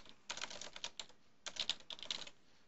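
Keys clacking on a computer keyboard in two quick bursts of typing separated by a short pause, close and clear with no talking.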